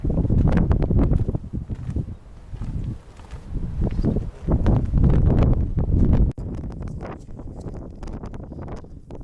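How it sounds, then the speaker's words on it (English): Strong wind gusts buffet the microphone at a campsite on the Nullarbor in loud, uneven bursts, easing briefly before roaring again, with a quieter stretch toward the end. "It's quite windy here"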